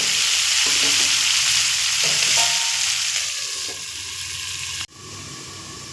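Pumpkin and potato cooking on a low flame in a pan with salt and turmeric, giving a strong continuous sizzle that gradually quiets, then a sharp clunk near the end before the sizzle resumes more softly.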